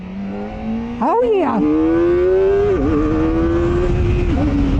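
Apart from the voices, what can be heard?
Kawasaki Ninja 400RR motorcycle accelerating in second gear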